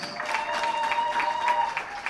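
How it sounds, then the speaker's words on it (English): A room full of people gives a round of applause at a live International Literacy Day ceremony, steady dense clapping throughout at moderate volume. "I thought we could have a better round of applause than that"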